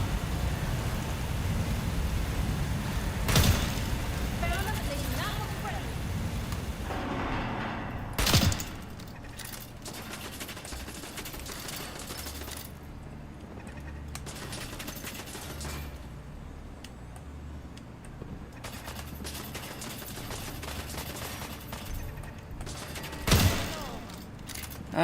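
Gunfire in the video game Mia LaCroix: To Oberland Station, scattered sharp shots and bursts over a busy, moderately quiet game soundscape, with no talk.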